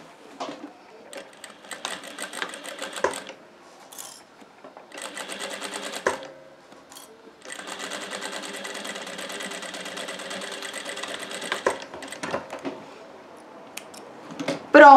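A sewing machine stitches a double glasses case from fabric in several long runs separated by short pauses, whirring steadily and close, with a few clicks between the passes.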